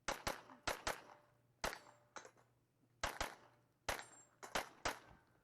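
Gunfire on a shooting competition stage: loud, sharp shots fired in quick pairs and short bursts with brief pauses between strings, each crack ringing out close by, no talking.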